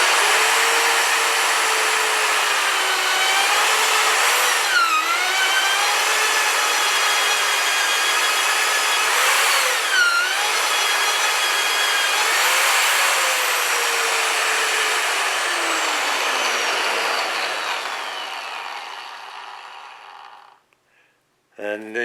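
An Evomag42 magnetic drill cuts a hole with a 1 1/8 inch cutter, a loud sustained grinding whine with tonal harmonics and periodic pitch dips as the cutter bites, tapering off as it finishes.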